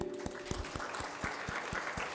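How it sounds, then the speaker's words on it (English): Audience clapping at a vegan festival in honor of the organizing committee, with distinct rhythmic claps falling at an even beat over a background wash of crowd noise. "we have to give our, big applause to our organizing committee"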